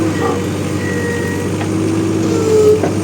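A Caterpillar 226 skid steer loader working with its wheels spinning, a loud, steady engine drone held close throughout with faint tonal whines riding over it.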